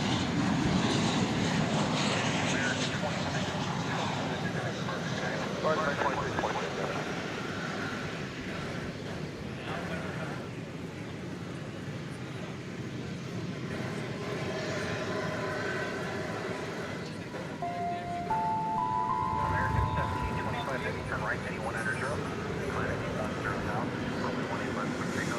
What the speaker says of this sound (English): here comes Flight 1467, American Airlines, coming in from Puerto Vallarta in Mexico.